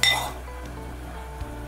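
A spoon clinks against a cooking pot as flour is added for béchamel sauce, one bright metallic clink at the start followed by a quieter tap, close and clear over a faint kitchen hush.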